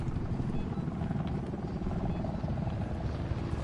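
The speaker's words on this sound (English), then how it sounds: "Enemy helicopter" An enemy helicopter in a shooter video game gives a dense, rumbling rotor and engine roar, loud and continuous across the whole moment with no break.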